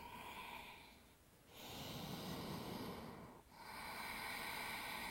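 Slow, audible breaths during a yoga flow, a long inhale or exhale, a brief pause, then another drawn-out breath, close and fairly quiet.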